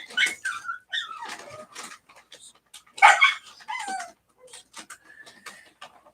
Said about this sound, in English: like the dog right now, he he he uh he hear the food being prepared for him, so he kind of in the background going crazy